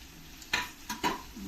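Okra being stir-fried with onion and green chilli in a pan over a high flame, giving a soft sizzle with a few brief scraping stirs, close and fairly quiet.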